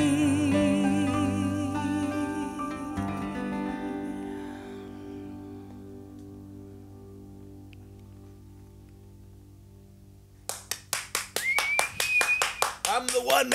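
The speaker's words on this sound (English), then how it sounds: "I'm the one man clapping band" One man claps a quick run of sharp, close hand claps. Before the claps, sustained musical tones fade out.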